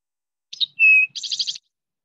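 Eastern towhee song played back from a phone bird app: a short two-note opening, a clear sustained whistle, then a fast buzzy trill, crisp and isolated against silence.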